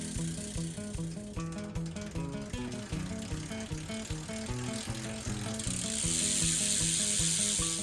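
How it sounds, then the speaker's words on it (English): Bicycle cranks on a used dirt jumper spun by hand to test chain tension, producing a steady, rapid ratcheting tick of the freewheel and chain, close and fairly quiet, with a hiss swelling near the end. "spin the cranks and put a little bit of sideways force onto the chain and see if it pops off"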